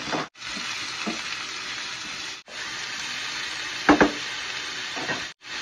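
Bell pepper, snow peas, oyster mushroom and bok choy stir-frying in a hot pan, a steady close sizzle with a few brief stirring scrapes and clatters, occasional short breaks in the hiss.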